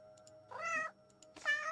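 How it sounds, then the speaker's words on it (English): Two cat meows from the video game Wartales, each a clear rising-falling mew about half a second long, separated by a short pause and heard alone against quiet faint background tones. "They have different meows too."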